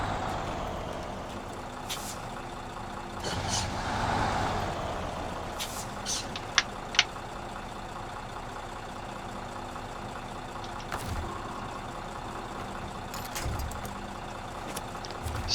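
A Ural Typhoon mod truck in the SnowRunner game backs up with a low steady engine drone, brief air-brake hisses and a few sharp clicks scattered through, at a moderate level with no talking.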